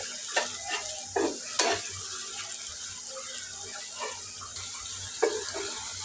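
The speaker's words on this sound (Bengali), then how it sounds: "আমি আবার মশলাটা নেড়ে দেব" Spoon stirring frying masala for a tengra fish curry, with steady sizzling under repeated scraping strokes against the pan at close range.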